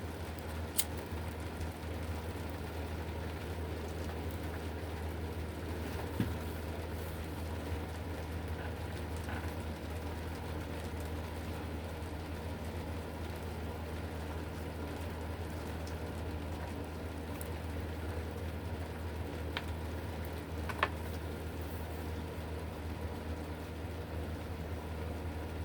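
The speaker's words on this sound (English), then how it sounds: "Can you hear the rain?" Steady rain falls without a break, a dense, even hiss with faint scattered drips and ticks that carries on throughout at a moderate, constant level, with no talking.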